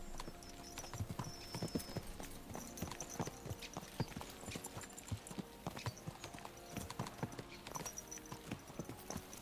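Horses' hooves clip-clop in a steady, driving rhythm through the medieval setting of Kingdom Come Deliverance II. The hoofbeats are continuous and fairly faint, with a brief whinny mixed in.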